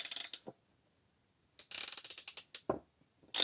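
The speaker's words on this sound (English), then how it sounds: "This one, it's the same exact ratchet." A Pittsburgh Professional swivel head ratchet clicking close up in quick bursts of sharp metallic pawl ticks, separated by near-silent pauses.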